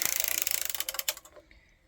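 A hand-cranked circular sock knitting machine gives a rapid, regular ratcheting clatter close by, the evenly spaced clicks running steadily and then fading out, with no voices.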